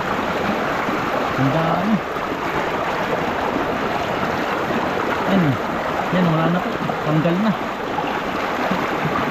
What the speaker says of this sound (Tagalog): Yan, may nalabas na po yung tubig.